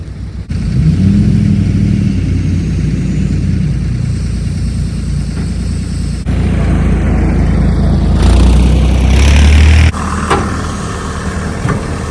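A big tractor's engine runs steadily while it is unloaded from a trailer, a loud low diesel drone with brief shifts in pitch and a short surge near the end, no speech.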